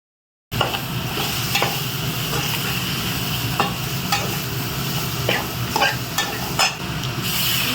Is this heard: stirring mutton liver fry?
yes